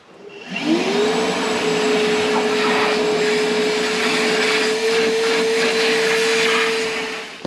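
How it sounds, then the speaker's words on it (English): A vacuum cleaner cleaning a scrap yard garden tractor chassis revs up and runs with a steady, loud motor whine and rushing airflow, close by and continuous, with no one talking. "So first I'm going to use the vacuum here."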